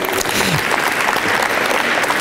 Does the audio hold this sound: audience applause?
yes